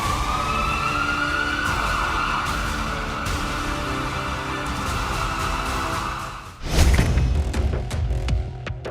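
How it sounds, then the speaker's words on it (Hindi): Ambulance siren in Uttar Pradesh, a loud sustained wail rising and falling nearby, then a burst of traffic and engine noise as the vehicle passes close. "उत्तर प्रदेश में एम्बुलेंस सेवा देने वाली यही वो गाड़ियां हैं"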